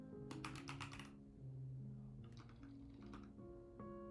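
Quick bursts of typing on a computer keyboard, rapid clustered key clicks in two short runs with a few stray taps, close and faint over a steady low hum, no talk.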